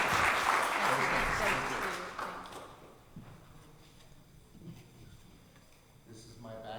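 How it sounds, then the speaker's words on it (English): Audience at a nonpartisan candidates forum breaking into warm applause, loud and dense at first, then thinning to scattered claps and a few voices as it dies away. "I think it is appropriate to applaud this wonderful forum."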